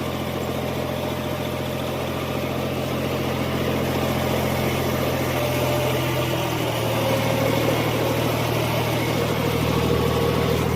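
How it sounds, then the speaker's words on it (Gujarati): A tractor engine runs steadily in a farm field during wheat sowing, a continuous low mechanical drone with a constant idling rumble that swells slightly in the latter half, heard without speech. "બાજુમાં બીજું ટ્રેક્ટરનું કામ ચાલુ જ છે"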